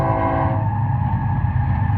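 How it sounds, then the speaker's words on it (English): A train passes through open desert: a steady, fairly loud rumble runs through the whole stretch with no voices, and a faint drawn-out tonal hum shows near the start. "We can hear the train going by."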